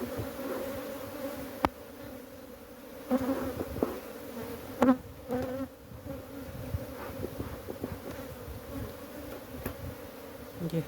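Steady, dense buzzing of many honey bees close by at an open hive, a continuous insect drone with occasional brief knocks and shuffles.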